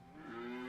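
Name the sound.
cow mooing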